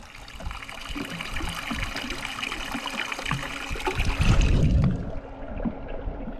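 Water splashes and trickles steadily into a boat hull, with a louder gushing burst near the end before settling back to a running flow.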